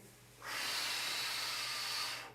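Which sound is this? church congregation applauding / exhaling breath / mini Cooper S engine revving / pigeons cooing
exhaling breath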